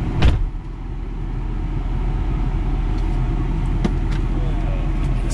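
Someone gets into a 2012 Ford F250 diesel truck: a sharp door thump comes near the start, then a few faint clicks and rustles from the cab over a steady low rumble.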